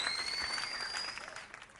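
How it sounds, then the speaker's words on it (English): Applause from a live-stream audience for last month's winner of a monthly retro video game show, a steady burst of clapping that fades toward the end. "Let's give him a round of applause"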